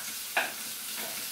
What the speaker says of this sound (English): And you just want to put them in and get them frying straight away.